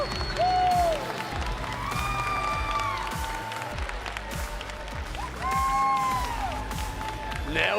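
A live Apex Legends esports audience at an ALGS Open event claps and cheers, with whoops and shouts rising in two louder swells over steady applause and a busy arena background.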